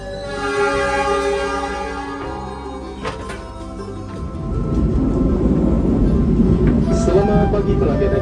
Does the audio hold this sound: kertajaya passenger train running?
yes